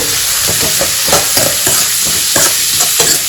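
Onions for momos fry loudly in a pan while a spoon stirs them, rhythmic scraping strokes over a constant dense sizzle, close and unaccompanied by talk.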